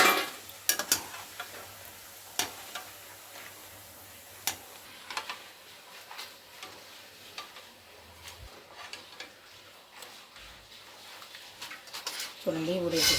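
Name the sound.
papads frying in hot oil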